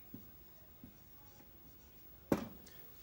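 Faint pen strokes on paper writing a fraction, with a few soft scratches and one sharper tap near the end, close and quiet with no talking.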